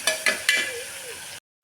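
Green chillies and onions fry in a pan for mutton keema curry, sizzling softly under a few quick scrapes and clinks of stirring before stopping abruptly.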